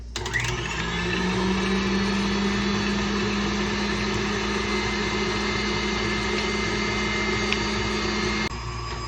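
A kitchen mixer beats keto meringue cupcake batter after a pinch of salt goes in. It gives a loud, steady motorized whir with a low hum that starts abruptly, runs unbroken for about eight seconds, then cuts off.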